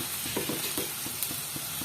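Silkworm pupae and onions frying in hot oil in a pan, stirred with a utensil: steady close sizzle under a run of scraping, clicking stirs repeating every fraction of a second.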